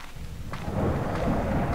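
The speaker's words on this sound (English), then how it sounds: "Shut up, lightning." Thunder rumbling during a lightning storm in the horror video game Slender, a deep continuous roll that swells after a brief crack and stays loud throughout, with no talking.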